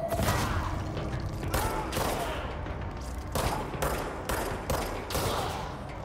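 Enemies fire rockets in Control amid a loud running firefight, with repeated heavy bursts and booming blasts roughly every half second to second over a constant din of combat noise.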